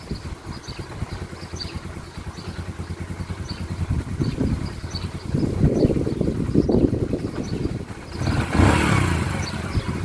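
A motorcycle engine that is hard to start sputters and pulses unevenly at first, then settles into a steadier running rumble with rises in revs, loud and close, with some wind noise near the end.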